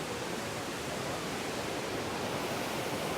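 Rushing waterfall in Meghalaya pouring down in a steady, broad roar, a dense unbroken wash of water noise that stays even and loud for the whole stretch with no voices.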